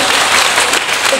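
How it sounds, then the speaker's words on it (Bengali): A room full of people at a Govt. ITI gathering applauds in a loud, close, brief burst of clapping with a voice faintly mixed in. "সুদীপ্তর জন্য একটা হাততালি ওকে।"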